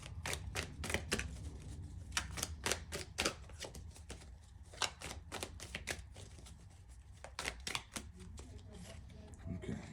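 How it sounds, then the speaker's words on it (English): Tarot cards are shuffled and pulled for a reading, producing quick bursts of crisp flicking and slapping card sounds in irregular clusters, close by, with faint vocal sounds in the background. "So let's go ahead and pull some cards."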